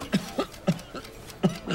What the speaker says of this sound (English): Wasting time on the coughing.